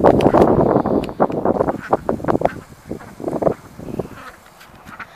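Gusty wind buffets the microphone outdoors on a farm, with rough bursts of rumbling noise that rise and fade over a few seconds and ease toward the end.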